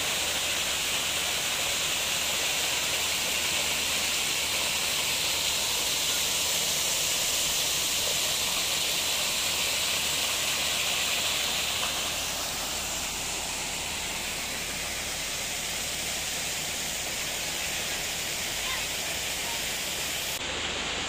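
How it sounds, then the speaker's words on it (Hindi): A waterfall pours down from above at Jala Jal Park, a steady loud rushing hiss of falling water that continues unbroken throughout, softening slightly partway through. "यहाँ पे बिल्कुल पानी नीचे गिर रहा है वो ऊपर से आ रहा है"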